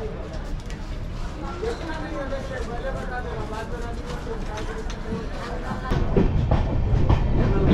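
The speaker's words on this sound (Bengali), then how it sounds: "নিউ ফরাক্কা জংশন থেকে ছেড়ে দিল ট্রেন আমাদের।" Amrit Bharat Express passenger train rolling on rails after leaving a junction station, a steady rumble with rhythmic wheel clatter that grows louder near the end, heard from inside under people talking.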